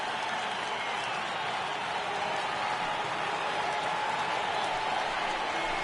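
A baseball stadium crowd of over 39,000 in MLB The Show 20 makes a steady, broad roar of cheering and applause, fairly distant and unbroken throughout.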